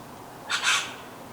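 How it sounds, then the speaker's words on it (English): A single short bird call rings out briefly against a quiet, faintly hissing background. "the birds doing their tweets"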